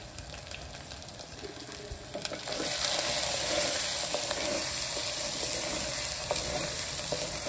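Spices with turmeric frying in a pan, a continuous crackling sizzle that grows louder partway through as something is stirred in, with light scraping, close and unvoiced.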